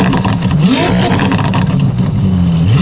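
Novitec-tuned Ferrari 296 GTB with a complete race exhaust system revving hard, a loud, continuous engine roar rising and falling in pitch, close by and alone with no talk.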